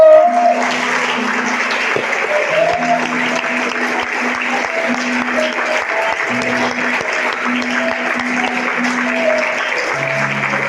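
A church congregation applauds during a worship service, sustained even clapping filling the room for several seconds while a held musical tone plays softly underneath.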